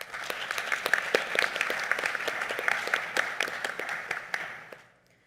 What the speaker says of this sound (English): I'd like to give a round of applause to the government in its entirety